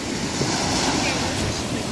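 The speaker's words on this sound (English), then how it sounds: "Catch a wave, Mom, but the waves are too big." Big ocean surf rolling in steadily, a broad continuous wash of breaking waves mixed with wind buffeting the microphone, loud and close for the whole stretch.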